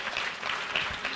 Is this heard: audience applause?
yes